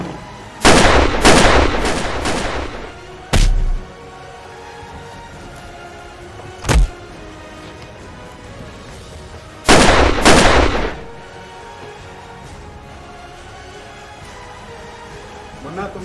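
Gunfire in a Hindi crime drama scene, several loud separate shots and short bursts spread across the stretch, with quieter gaps between them.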